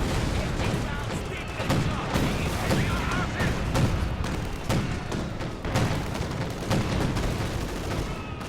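Artillery and gunfire from the World War II strategy game Company of Heroes 2, a series of repeated booms and sharp bursts at irregular intervals over a continuous noisy battle background.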